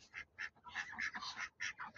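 Ducks quacking in a rapid, irregular series of loud, nasal calls close by, several birds overlapping with brief pauses between bursts, with no talking.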